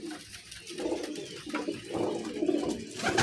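Pigeons coo in soft, rolling bursts, one low call after another, close by and unaccompanied by talk.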